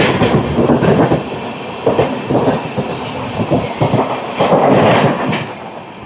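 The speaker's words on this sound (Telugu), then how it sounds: "ఆహా, డీజిల్ లోకోమోటివ్." An Amrit Bharat Express train hauled by a diesel locomotive nearing Ernakulam Town station, heard from on board as a loud, steady rumble with rhythmic clickety-clack of wheels over rail joints.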